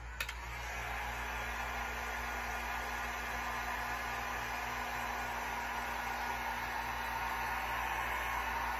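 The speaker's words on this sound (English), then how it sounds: "So as far as, you know, drying this ink, I'm just using a basic heat gun." A basic heat gun blows steadily on screen printing ink on a print, a continuous even fan-and-air hiss at low level, close and uninterrupted.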